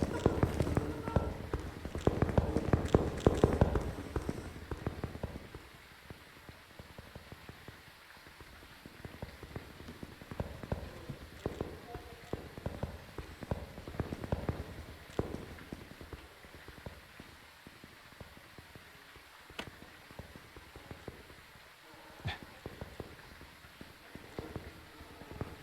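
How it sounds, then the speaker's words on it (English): Rapid clopping steps from a ghost in the horror game Phasmophobia, a quick irregular patter repeating across the stretch with rain-like noise, loudest early on and then steadier at mid distance. "The footsteps sound really weird."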